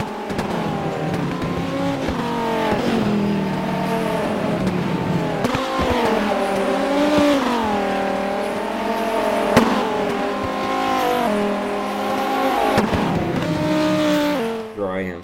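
A Viper race car in the rFactor racing game is driven flat out, its engine droning loud and steady throughout, pitch rising and falling through gear changes, with brief tire squeal and no talking.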